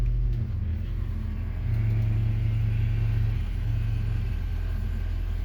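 A Vogue motorhome engine idles steadily after being put in gear, a low continuous rumble that holds at an even level throughout, close and alone.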